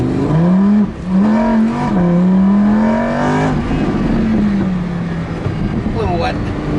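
A Lamborghini Huracán LP610 accelerates on the wet Lime Rock Park race track, its engine note climbing steadily and droning loud from inside the car, with people talking over it.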